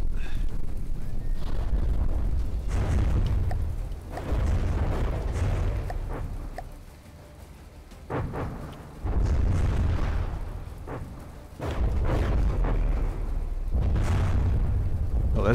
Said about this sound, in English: Hey, there's the rockets.